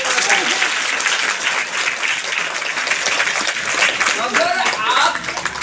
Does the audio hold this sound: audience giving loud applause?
yes